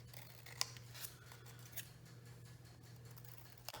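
Scissors trim paper cut from a security envelope with a few quick, faint snips and light paper rustle, spread over a quiet room with a low steady hum.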